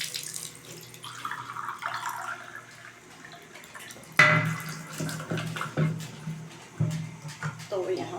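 Water running from a washroom tap splashes and trickles intermittently into a container indoors, with a few louder gushes and knocks, while someone talks over it.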